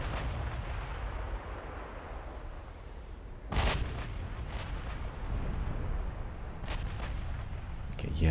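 Secondary naval guns fire in Ultimate Admiral Dreadnoughts, a 1954 Ottoman campaign battle against a destroyer line off southern Colombia: loud booming shots and sharp cracks burst at irregular moments over a continuous low rumble of battle.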